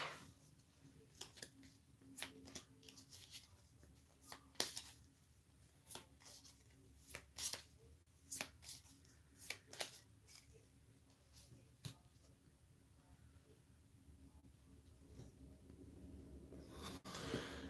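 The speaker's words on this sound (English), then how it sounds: "So these are going to get shuffled and put back on the top." Playing cards for the board game Pandemic: Reign of Cthulhu are shuffled in a quiet room, a series of soft riffles and snaps with pauses between them.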